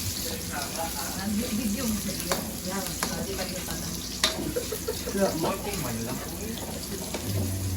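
Ampalaya (bitter gourd) sizzling and frying in a pan while being stirred, with intermittent scraping and running water nearby, steady and close with faint voices in the background.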